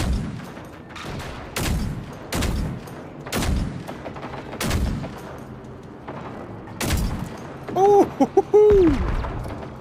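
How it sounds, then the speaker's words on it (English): Heavy gunfire in the video game Generation Zero: about eight loud, evenly spaced booming shots ring out over a low ambient rumble, followed near the end by a few sharp electronic chirps. "I'm putting rounds on the rival"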